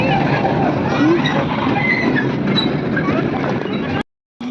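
A toy train in a park rumbles steadily with a continuous rolling clatter under the noisy crowd talking nearby, and the sound cuts off abruptly near the end.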